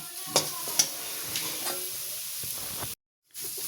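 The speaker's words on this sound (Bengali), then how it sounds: "এবার এটাকে একদম ভালোভাবে শুকনো করে ভেজে নেবো" Mashed taro paste with sugar frying in a pan until dry, a soft continuous sizzle with light scraping of a spoon and a couple of sharp ticks, cutting out briefly near the end.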